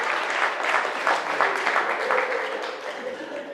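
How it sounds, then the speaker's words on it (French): An audience breaks into applause at a spoken poetry performance, a dense wash of clapping that holds steady and slowly thins toward the end. "Applaudissez, s'il vous plaît."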